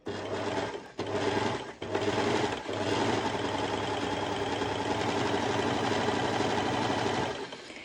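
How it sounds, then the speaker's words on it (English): Serger overlocking through two layers of fabric, lining and main fabric, for a lettuce-edge hem: a steady, close mechanical whir running nearly eight seconds, with two brief dips as the machine slows near the start. "you're actually serging over 2 layers of fabric and you want to cover both layers of fabric"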